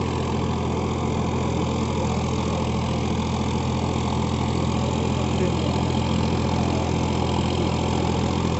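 Farmtrac 60 Supermaxx 55 hp tractor, 2021 model, engine running steadily at a low idle-like drone, close and continuous with no talk.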